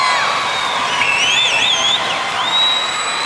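A crowd at the Commonwealth Games netball final in Delhi cheers loudly and continuously, with high whoops and shrill shouts rising above a dense roar.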